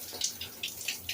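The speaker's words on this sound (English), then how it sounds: "hey, that's warm water right there." Hot water from a newly installed tankless water heater runs from a tap in a soft, continuous splashing stream, quiet and close, with small rhythmic spatters and no talking.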